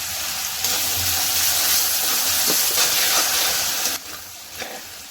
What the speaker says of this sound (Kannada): ಈರುಳ್ಳಿ ಇಷ್ಟು ಫ್ರೈ ಆದರೆ ಸಾಕು. ಈಗ ಇದಕ್ಕೆ ಟೊಮೆಟೊ ಹಾಕ್ಕೊಳ್ಳೋಣ.